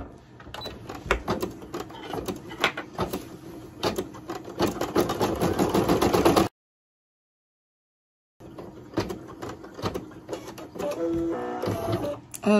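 Embroidery machine sewing placement stitches for a machine appliqué hat band, a steady, fast mechanical chatter of needle strokes, loud and close, stopping for a short silence before running again.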